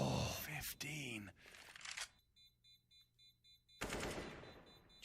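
Sprays of automatic rifle fire in Counter-Strike: Global Offensive: loud dense bursts open and close the stretch, with a quieter run of evenly spaced shots between, mixed with a voice.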